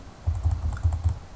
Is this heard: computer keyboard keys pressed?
yes